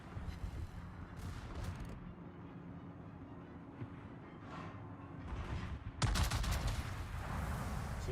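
Naval guns boom in the warship battle game World of Warships, with rumbling volleys over steady battle noise and a sudden louder, denser barrage near the end; no one speaks.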